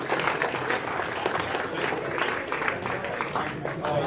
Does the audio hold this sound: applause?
yes